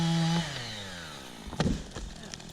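A felled tree trunk crashing to the ground after being cut with a chainsaw, the saw's whine dying away first, then a solid thud and a few cracking impacts.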